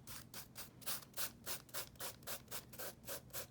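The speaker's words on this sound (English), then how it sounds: "Okay, I'm gonna rub all this off." Material being rubbed off a Bible journaling page by hand, a steady back-and-forth scrubbing with about a dozen quick strokes in even rhythm, close and fairly quiet with no talking.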